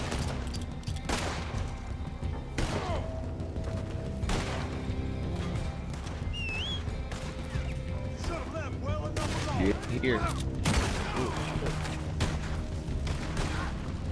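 Gunshots ring out in Red Dead Redemption 2 Online, a string of sharp cracks spaced a second or two apart over a continuous low background, with a few tighter clusters toward the end.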